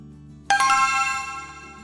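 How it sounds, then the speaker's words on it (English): A phone ringtone starts suddenly and rings on with a steady, bright tone, loud and close, with nobody answering the call and no talking. "Why isn't Sam picking up the phone"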